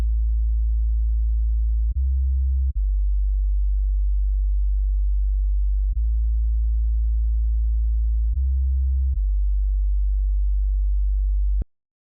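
A sequence of steady, very low pure tones, each shifting pitch with a small click between them, ending abruptly.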